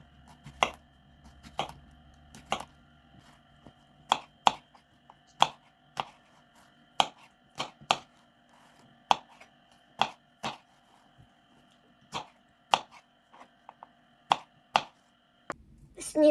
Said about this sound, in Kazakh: Орташа көлемдегі 3 алманы ұсақтап тураймыз.